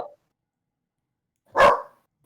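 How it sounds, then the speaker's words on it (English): A single dog bark, loud and fairly close, stands alone after a near-silent stretch, with only a faint short sound at the start and end. "There's a dog."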